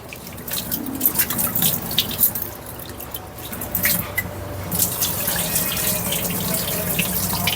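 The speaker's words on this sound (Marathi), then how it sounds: "आता मी हे प्रॉन्स धुणार आहेत वॉश करणार आहे" Prawns washed under a running kitchen tap, a steady close stream of water with splashing and dripping into the sink as hands move them about, continuous and moderately loud throughout, no voices.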